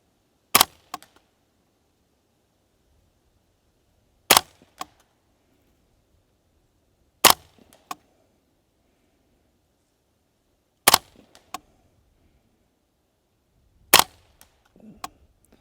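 Five sharp, cracking shots from a Savage A22 takedown rifle fired outdoors at a 100-yard target ring out a few seconds apart, each a loud isolated report with a short echo tail, separated by quiet pauses with faint handling noises.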